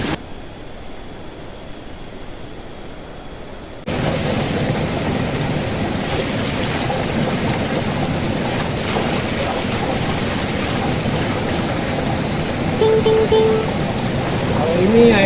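After a quieter start, a loud, steady broadband rush of falling water takes over at Kali Pancur waterfall in Getasan, Central Java, continuous and close.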